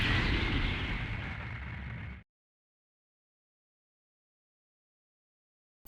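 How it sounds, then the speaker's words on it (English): A boss blows up in Mega Man X5 with one loud, dense explosion blast. It rumbles for about two seconds, then cuts off abruptly to silence. "a boss exploding is actually bad for us"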